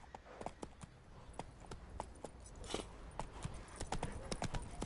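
Roach, Geralt's horse in The Witcher 3, gallops along in quick, even clip-clop hoofbeats that sound close and steady with no speech over them.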